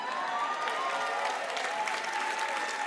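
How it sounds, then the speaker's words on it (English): Audience applause at a church gathering, a dense steady wash of many hands clapping at moderate volume throughout, with faint crowd murmur underneath. "Come on, don't clap for that."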